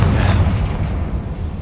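A Confringo fire spell explodes in Hogwarts Legacy, a loud, deep boom whose rumbling blast fills the whole moment and slowly fades without fully dying away.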